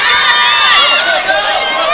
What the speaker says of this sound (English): Big groan of ooh from the crowd here